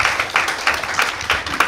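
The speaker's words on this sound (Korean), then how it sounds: "큰 박수로 환영해 주십시오" Brief clapping from a university lecture audience welcoming a speaker to an open-source software talk; a short, close run of distinct, fairly loud handclaps in a loose rhythm.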